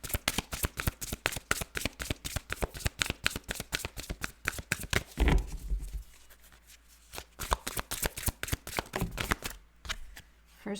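Tarot cards shuffled for a reading: rapid, close, crisp riffling clicks for about five seconds, a brief thump as the deck squares up, then looser, scattered card flutters, with no talking.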